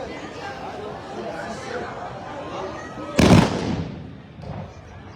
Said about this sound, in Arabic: إذا طلقة رائعة طلقة متميزة كذلك.